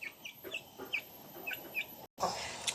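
Rhode Island Red and native chickens cluck nearby in short, soft, scattered calls in a quiet yard, with a brief dropout near the end.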